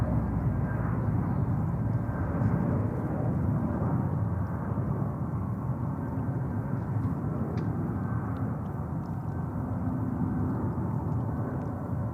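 Airbus A321neo arriving at JFK from Phoenix, a steady distant jet engine roar that holds evenly throughout without clear rise or fade.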